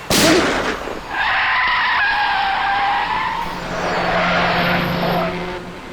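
A car brakes hard and skids with a long, loud tire squeal that starts sharply and holds for several seconds before fading as the vehicle stops, with no talk.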